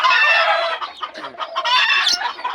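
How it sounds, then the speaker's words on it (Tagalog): Loud, busy chorus of chickens clucking and squawking close by, overlapping calls with a rooster-like crow mixed in, no talking. "ingay ng mga manok mga kapagaw"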